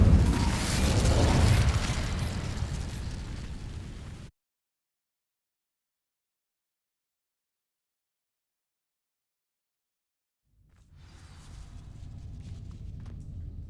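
Incendio, a fire spell in the Hogwarts Legacy video game, ignites dry vines with a loud rushing whoosh and crackle that abruptly cuts to silence, then a softer, rumbling burn returns several seconds later.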